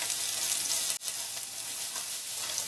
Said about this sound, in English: I'm going to stir fry this for a little bit.